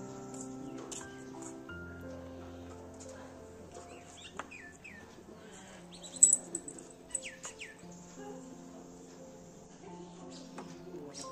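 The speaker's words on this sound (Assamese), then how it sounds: "চৰাই চিৰিকটি মানে মাতবোৰ শুনি থাকিবলৈ পায় আৰু বেছিকে ইয়াত মানে শালিকা আছে" Morning birds, mostly mynas, call from around the spot with scattered chirps, whistles and tweets, some near and some farther off, over a soft steady hum and faint rustling.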